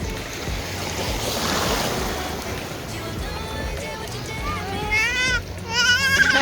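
Sea waves washing onto a beach at night, a steady broad rush of surf throughout, with people chattering and children's voices mixed in over it.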